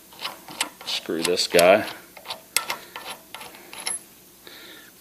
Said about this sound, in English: I'll unscrew this, bolt will drop out.